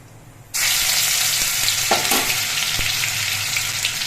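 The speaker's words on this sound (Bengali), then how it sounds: "এবার এই তেলের মধ্যে দিচ্ছি অল্প একটু জিরে আর হাফ চামচ পরিমাণ আদা বাটা" Cumin seeds and ginger paste hit hot oil with a sudden loud, steady sizzle that holds strong throughout, with a few faint utensil clinks and no voices.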